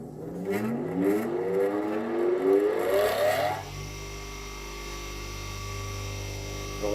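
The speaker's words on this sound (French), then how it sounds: "Donc la meuleuse." An angle grinder powered from a Fossibot F3600 Pro battery station spins up, its whine rising steadily in pitch over a few seconds before settling into a steady running hum.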